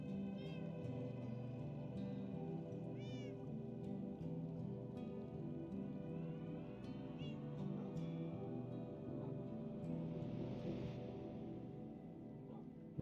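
Cats meowing in the video game Minecraft inside a house: a few short, rising meows and purr-like calls, fairly soft, set over a steady dense background drone of music or ambience, with no one talking.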